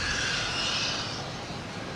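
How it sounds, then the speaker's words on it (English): Jet airliners at Boston Logan airport, one Delta jet arriving on approach and a JetBlue jet departing, give a steady, broad engine roar that holds at a fairly even level for about two seconds, with a hissing high-frequency wash and no voices. "we have Delta coming in from DC and JetBlue taking off to Syracuse."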